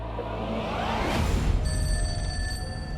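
A telephone rings amid a dense, dramatic music bed, its tone rising clear and steady through the second half with no voices present.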